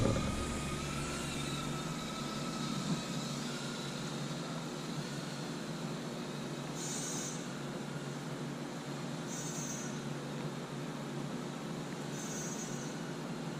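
An L6056 IR drone flies with a steady, even whir that holds at a constant level throughout, alone.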